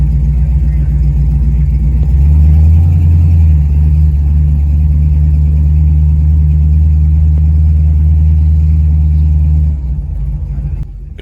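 Engines of vintage 1960s American muscle cars such as a Plymouth Superbird and Sport Fury, heard from inside while cruising on a road trip: a loud, steady low rumble that swells around two seconds in, then eases near the end.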